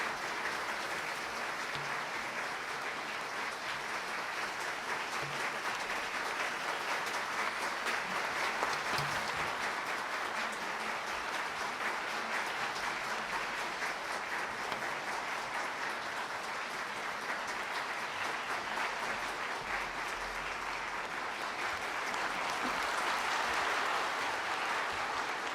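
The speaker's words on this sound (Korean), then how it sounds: "박수로 환영해 주시기 바랍니다." Sustained applause from a large lecture audience at Tsinghua University, an even wash of clapping that holds steady for the whole stretch.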